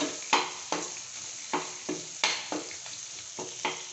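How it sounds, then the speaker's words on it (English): Garlic sautés in about a tablespoon of oil, with a soft, close sizzle and a series of spaced scraping strokes from a spatula keeping a roughly regular rhythm, and no voices. "And then, saute the garlic first."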